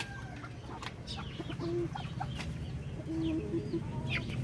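Darag chickens on a Philippine farm cluck in short repeated bursts, with a few higher calls and squawks over a low background hum, fairly close and with no speech.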